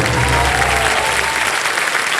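Studio audience applause on the KBC game show, a loud, full burst of clapping that holds steady for about two seconds, with a low hum beneath it at the start.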